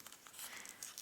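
Paper being folded and creased while making an origami pig, with soft crinkling and crisp rustles that stay close and fairly quiet throughout the second, and no talking.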